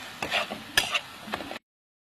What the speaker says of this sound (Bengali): এবার এটাকে আস্তে আস্তে নাড়াচড়া